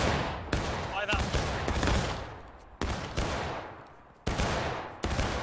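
Musket volley gunfire in the Civil War video game War of Rights, a rapid string of loud, booming shots crackling one after another with rumbling decay between them.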